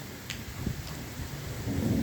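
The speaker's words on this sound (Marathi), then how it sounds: "आज आपल्याकडे पाऊस चालू झाला आहे" Steady monsoon rain falls with thunder during a July downpour, a continuous hiss with low rumbling, a few sharp crackles, and a heavier swell near the end; no voices.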